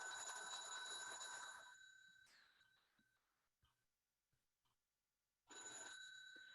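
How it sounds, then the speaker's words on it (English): An electronic telephone ringing indoors during a lecture, a loud trilling ring that cuts off, leaving near silence with a few faint clicks, then starts again. "We have a little phone ringing break."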